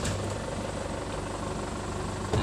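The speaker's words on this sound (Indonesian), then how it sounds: "saya hidupkan mesin dulu" An Isuzu Elf LWB minibus engine idles steadily, a low, even rumbling drone throughout, close and alone.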